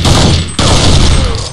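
Loud, close gunfire from the Counter-Strike video game fills the scene as a dense, continuous burst, with one sharp break partway through before the shooting resumes.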